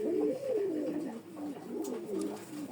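A pigeon coos softly and repeatedly at close range, a low rolling call that rises and falls several times.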